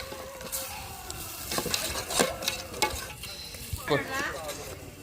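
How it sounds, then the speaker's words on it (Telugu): Tomato paste frying in a pan while being stirred: a close, steady sizzle with repeated scraping strokes of a utensil against the pan. "టమాటా పేస్ట్ అయితే బాగా వేగింది కదండి"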